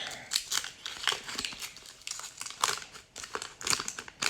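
Waxy paper wrapper of a 1988 Topps baseball card pack being torn open and crinkled by hand, a steady run of close, bright crackling bursts with no talking.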